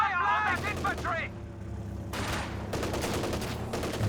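Kubelwagen machine gun firing bursts in Company of Heroes 2, a couple of short crackling volleys amid battle noise, heard under a commentator's voice.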